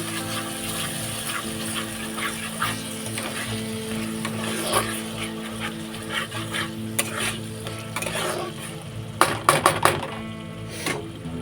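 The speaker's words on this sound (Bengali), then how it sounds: "মশলাটাকে একটু নাড়িয়ে চাড়িয়ে নিচ্ছি" A spoon stirs chicken curry spice masala in a pot, scraping and clinking against the metal over a soft sizzle of frying, with a few sharper knocks near the end.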